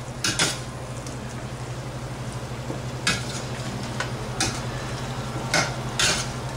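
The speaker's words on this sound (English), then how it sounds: "I'm going to add it on that. And saute this mixture." Shrimp marinated with salt and turmeric sautés in a pan for a shrimp and bottle gourd curry, a constant close sizzle broken by several sharp scrapes and clinks of a spatula stirring, with no talk.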